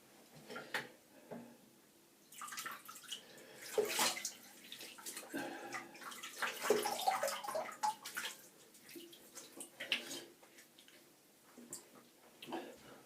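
Cold tap water splashes and runs intermittently at low volume during wet shaving, with small clinks and handling sounds around it.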